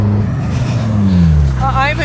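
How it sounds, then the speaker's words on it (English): 2022 McLaren 765LT Spider slowing hard under heavy braking, the engine note sweeping down in pitch over about two seconds, close and loud, with a voice speaking near the end. "Literally testing and hitting the brakes."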